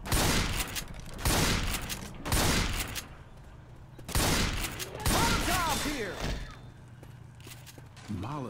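Pump-action shotgun blasts in Left 4 Dead 2 come in a handful of loud, evenly spaced booms with pauses between, set against game noise and a few whining tones.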